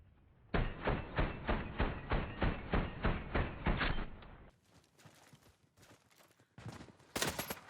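A rapid, evenly spaced burst of automatic gunfire from the shooter game Warface fires through a wooden wall, loud and close for about three and a half seconds, followed by scattered, sharper single shots.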